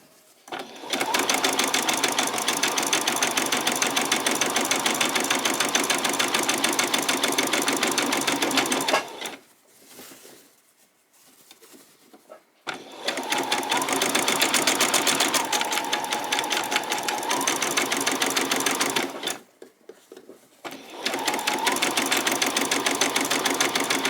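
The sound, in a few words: sewing machine stitching fabric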